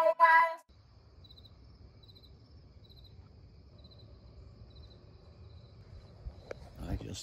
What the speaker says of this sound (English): Literally all you can hear is the cricket over there.